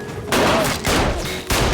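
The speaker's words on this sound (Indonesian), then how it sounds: "Tembak-menembak terjadi" Loud bursts of gunfire crackle in rapid succession, several heavy shots overlapping like a close-range firefight in a film.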